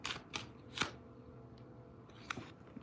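Tarot cards are shuffled in a few quick, crisp riffling bursts, close up in a quiet room.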